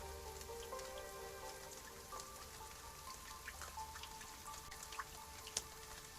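Rain falls steadily on leaves in a dark canyon, a soft continuous patter with scattered close drips and one sharper tap near the end, and no voices.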